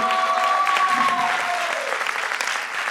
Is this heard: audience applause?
yes